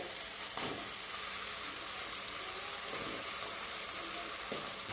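Drumsticks (moringa pods) and potato pieces are stirred into a hot masala for a spicy curry, with a continuous loud sizzle and occasional scraping stirs, heard close.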